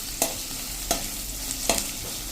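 Chopped capsicum frying in a pan for a bottle gourd curry, with a steady soft sizzle broken by three or four scraping stirs of a spoon, close and moderately quiet.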